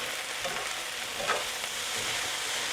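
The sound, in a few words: hash browns frying, scraped with spatula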